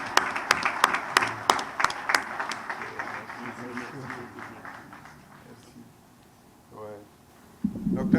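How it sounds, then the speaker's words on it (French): An audience applauds warmly with sharp, distinct claps that taper off and fade over several seconds, followed by a brief voice and a louder burst at the end. "je vous demande de l'applaudir chaleureusement."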